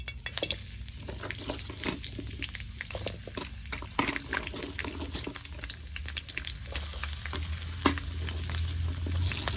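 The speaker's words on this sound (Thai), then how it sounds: "จะเอาผัก มาผัดให้มันสุกก่อนเนาะ เพราะว่ากระทะมันเล็ก" Vegetables sizzle and crackle in a hot wok as they are stirred, with scraping and irregular spatters over a steady frying hiss.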